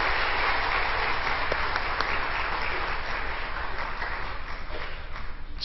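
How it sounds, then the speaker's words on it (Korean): A church audience at a family happiness gathering applauds to welcome a missionary singer, dense loud sustained clapping from many hands filling the whole stretch without talk. "박수로 맞이하겠습니다."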